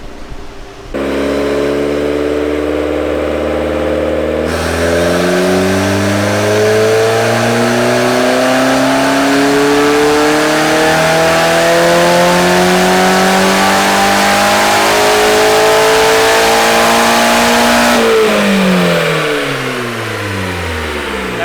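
Turbocharged Honda Civic engine revving hard on a dyno with no wastegate, a loud sustained run of rising harmonic engine tone climbing through the gears with a drop near the end, no talking.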